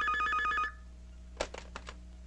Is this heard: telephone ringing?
yes